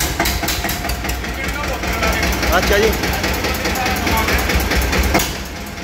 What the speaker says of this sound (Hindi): लो जी ट्रैक्टर की आवाज़ सुनो दोस्तों